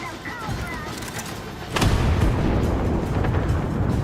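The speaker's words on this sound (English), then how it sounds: "Fire the cannon." A cannon fires at a galleon in the sci-fi video game Warframe, one heavy boom midway that leaves a loud, rumbling roar behind it, heard over a game soundtrack.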